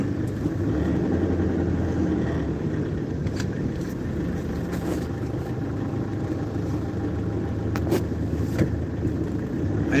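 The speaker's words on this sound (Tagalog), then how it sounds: "Traffic in the city." Steady city road traffic heard from inside a moving car in stop-and-go congestion, a continuous engine and tire rumble with passing vehicles around, moderately loud and unbroken, with no talking.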